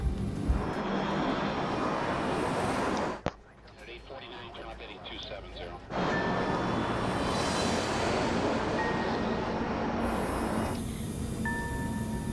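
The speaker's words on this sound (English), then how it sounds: "Just after liftoff, the plane makes a left turn towards its first navigation point." A passenger airplane climbs just after liftoff in low cloud, its steady loud engine roar filling the scene, dropping briefly before returning at full strength, with a voice speaking over it.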